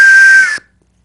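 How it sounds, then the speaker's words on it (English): A cheap toy train whistle gives one short, loud, shrill blast lasting about half a second, then cuts off into silence. "So that's the train whistle."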